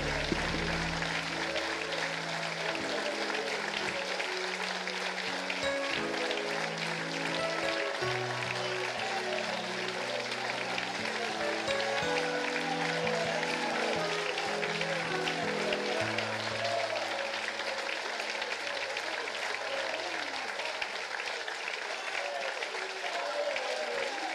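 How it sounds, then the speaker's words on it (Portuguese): A church congregation claps during a Sunday worship service. Continuous, full applause carries over sustained keyboard or organ chords that change pitch in steps underneath, and the level stays even throughout. "salva de palmas para este amigo fiel"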